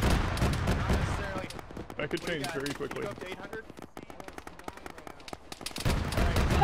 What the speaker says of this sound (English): He's shooting at us, so he sees you.